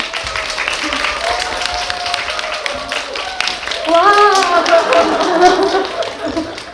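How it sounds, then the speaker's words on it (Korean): Film festival audience applause welcoming an actress, moderate clapping running under a host's voice, then cheers and excited voices rise as the clapping grows louder near the end. "큰 박수로 배우를 환영해 주시기 바랍니다"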